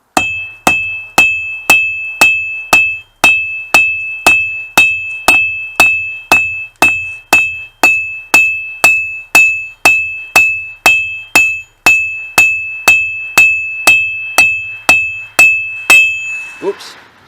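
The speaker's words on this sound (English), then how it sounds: "For this bevel, it's 45-degree angles for the hammer strikes" Steady hammer blows ring out on steel while forging a draw knife bevel, about two per second, each a sharp metallic clang with a bright lingering tone, close and loud.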